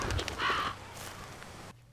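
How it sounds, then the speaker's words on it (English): A crow caws in the horror game Slender: The Arrival, a few harsh, rasping calls close together at the start, then fading into quiet ambience before cutting off. "That was a crow, y'all."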